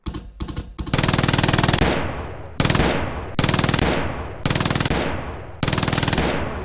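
Rapid automatic gunfire in a tactical shooting training exercise, loud and close, coming in repeated sustained bursts separated by brief pauses, with a few scattered single shots at the start.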